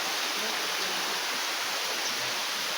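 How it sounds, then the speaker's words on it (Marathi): A large waterfall near a temple in Parner: a steady, distant hiss of falling water, even and unbroken with no other sounds. "पूर्ण प्रकारे खूप मोठा वॉटरफॉल आहे."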